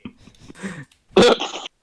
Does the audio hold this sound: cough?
yes